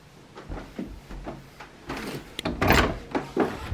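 A door is opened for someone arriving, with bumps, a latch clack and a swishing movement building to a louder rattling thud, all close by with no speech.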